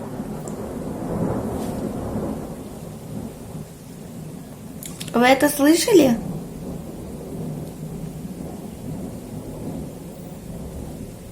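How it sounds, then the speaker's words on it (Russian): Thunder rumbles low during a rainstorm, a long rolling grumble over steady rain hiss, with a voice speaking briefly in the middle. "когда гремит гром"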